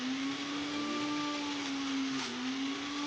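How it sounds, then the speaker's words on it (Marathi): A mixer grinder blending butter cake batter whirs in a loud, steady motor drone with a constant pitch that wavers slightly, running close and uninterrupted without any voices. "हे सर्व मिश्रण मिक्सरला फिरवून घ्यायचे आहे"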